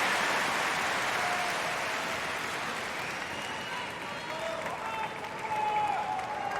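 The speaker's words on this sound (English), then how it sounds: "The Gauff camp, every point on their feet and clapping loud." Spectators at a US Open tennis match clap loudly and steadily, a broad sustained roar of applause that eases slightly midway before swelling again, with crowd murmur mixed in.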